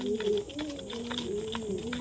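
Spotted black pigeons cooing in a loft, a soft, low, continuous warble of overlapping coos with no talk.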